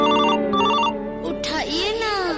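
A mobile phone ringtone plays in quick repeating electronic bursts, then gives way to voices talking over it, in an Awadhi and Bhojpuri comedy skit.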